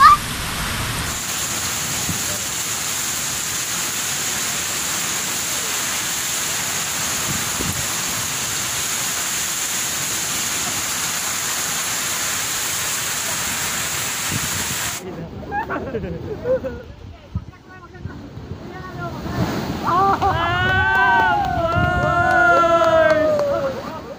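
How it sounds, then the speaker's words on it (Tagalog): Heavy rain from Typhoon Ulysses pours in a loud, steady hiss for about fifteen seconds, then drops away as a voice starts talking over fainter background noise. "grabe ang ulan"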